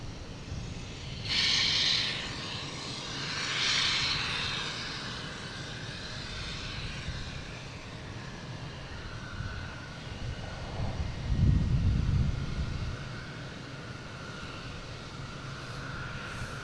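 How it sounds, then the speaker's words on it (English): A JetBlue passenger jet heading for Milan roars at Boston Logan International Airport, a broad, steady engine rumble with swelling surges, heard from a moderate distance beside the runway. "I got JetBlue here heading to Milan"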